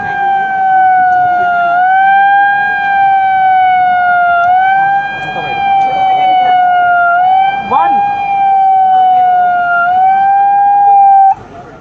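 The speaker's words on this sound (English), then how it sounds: "the siren has gone off, which means the train is coming" The KAVACH anti-collision warning siren sounds at a railway on the outskirts of Hyderabad: a loud, steady electronic tone with a slight wavering pitch that holds for about eleven seconds before cutting off abruptly.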